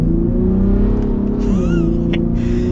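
A Ford Raptor truck with the EcoBoost engine accelerates, its steady engine drone rising in pitch through a gear change, loud and close with no talk.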